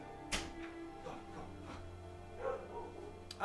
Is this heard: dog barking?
yes